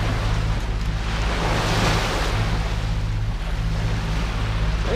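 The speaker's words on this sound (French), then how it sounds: "On est freiné sans arrêt par cette houle là qui nous vient de face." Head-on ocean swell washing against a sailing boat at sea, continuous loud rushing water and wind with a low steady engine-like hum underneath, no talking.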